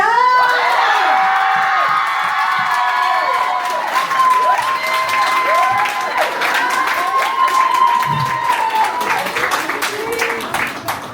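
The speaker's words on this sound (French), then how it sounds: "Je vous prie de faire un tonnerre d'applaudissements s'il vous plaît pour Léa!" A loud crowd at a press event claps, cheers and whoops for an entrance, dense applause running throughout with rising shouts and excited voices layered over it.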